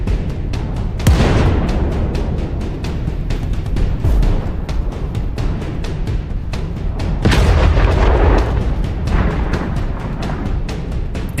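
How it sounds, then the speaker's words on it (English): Artillery fire in a combat setting in Ukraine: a rapid string of heavy booms and blasts one after another, loud and dense with rumbling, and two stronger detonations standing out near the start and later on. "Artillery fire begins one after another."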